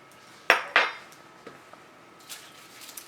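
A utensil swishes a small dab of food around a plate while making a boujee breakfast: two sharp, close clinks against the plate, then faint, sparse scrapes and taps trailing off.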